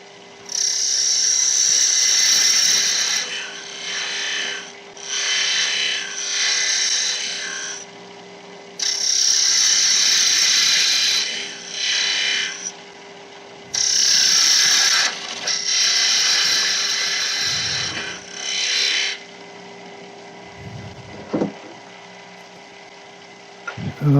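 A chisel cuts wood on a spinning lathe while turning a keyring, with the blade slightly blunted and catching the spacer. Repeated loud bursts of scraping and cutting rise and fall over a steady motor hum.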